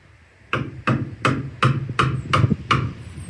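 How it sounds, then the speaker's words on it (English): A hammer taps a narrowboat's wooden window frame in seven sharp, evenly spaced knocks, close and moderately loud, with no talking. "Tap it with a hammer."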